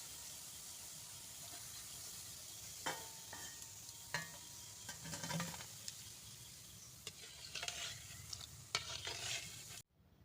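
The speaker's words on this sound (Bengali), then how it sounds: "আমার বড়াগুলো এই যে দেখো ভাজা হয়ে গেছে" Palm fruit fritters frying in hot oil give a steady, close sizzle, with scattered clinks and scrapes of a utensil as they are turned and lifted out; no one speaks.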